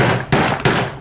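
A screwdriver is hammered into a transfer case seal on an NP208 with three sharp metallic strikes about a third of a second apart, loud and close, each leaving a ringing tail.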